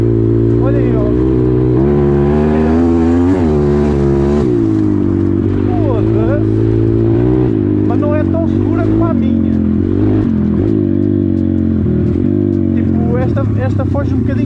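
A 140 motorcycle engine revving while being ridden, its steady buzzing drone rising and falling in pitch, loud and close throughout, with someone talking over it.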